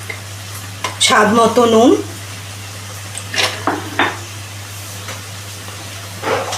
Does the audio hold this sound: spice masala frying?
yes